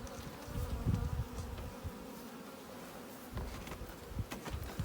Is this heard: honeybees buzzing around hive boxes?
yes